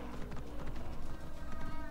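Hooves of a horse in a video game clip-clop in a quick, steady running rhythm, fairly close and continuous, with a voice talking faintly over them.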